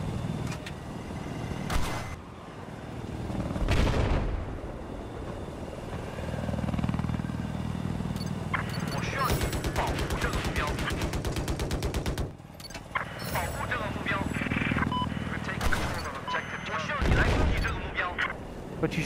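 Gunfire in Battlefield 4 on Golmud Railway, with bursts of rapid automatic fire and heavy shots mixed with helicopter rotor drone and vehicle noise, loud and repeated through the stretch.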